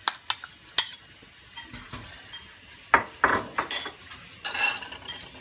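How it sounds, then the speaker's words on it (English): A spoon clinks and scrapes against a pot while stirring shrimp and mushrooms into tom yum goong soup, with a series of sharp metallic taps and short scraping strokes separated by brief pauses, close and clear with no talk. "Now I'm going to stir it like, to mix the mushroom in there."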